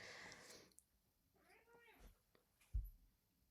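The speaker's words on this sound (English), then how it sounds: "you have to live with a cat screaming at you" A house cat meows and wails in drawn-out, rising cries, fairly close, after a stretch of quieter background noise, with a couple of dull thumps nearby.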